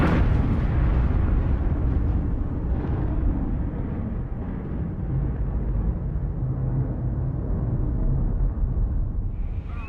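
A massive chemical reactor explosion at a chemical plant, equal to roughly 1,400 pounds of TNT, heard as a loud, sustained low rumbling roar that starts at full strength and slowly eases over ten seconds.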